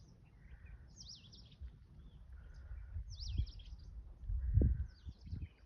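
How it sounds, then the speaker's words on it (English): Birds near a nest in Forest Trek Park, Hyderabad, give short high chirping phrases that repeat at intervals, faint against low rumbling background noise and a few thumps, with no voices. "Listen the birds singing."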